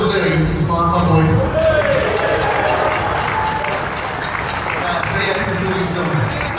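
Festival crowd at Wickham Festival applauding and cheering for a boy named Louis, a dense continuous wash of clapping and voices throughout, with a musical tone and chatter mixed underneath.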